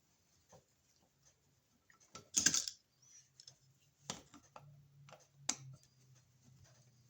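Unscrewing an electrical outlet from a wall box: sparse metallic clicks and scrapes of a screwdriver and hardware, with a louder rattle, in a quiet room.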